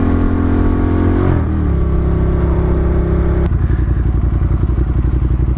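A Ducati Monster motorcycle is ridden, its engine droning loudly up close, dipping briefly as it shifts gears and then pulling hard again with a throbbing, pulsing exhaust note.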